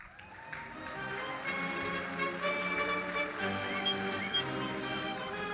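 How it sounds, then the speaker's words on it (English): Audience applause fills an award ceremony hall honouring scholarship winners, a steady, fairly faint patter of many hands clapping continuously with no voices over it. "thank you for the applause on her behalf"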